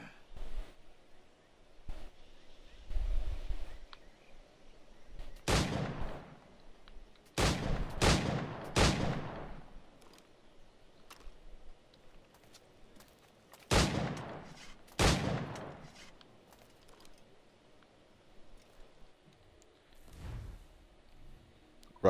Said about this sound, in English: The Puckle gun.